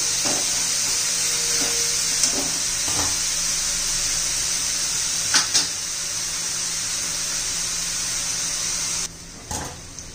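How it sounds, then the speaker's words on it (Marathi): Bottle gourd sautés in an open pan for a Marathi-style zunka, a continuous soft sizzle broken by a few scattered spatula clicks and scrapes. "तर 2-3 मिनिटं आपण चांगला आता परतून घेऊया."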